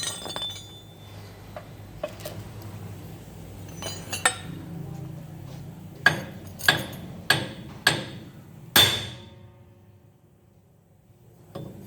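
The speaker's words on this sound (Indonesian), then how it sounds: "Nah kita pukul murnya," A hammer strikes the nut on a car tie rod, with five sharp metallic clinks in a row and a final heavier hit, close by over a low background hum and scattered small taps.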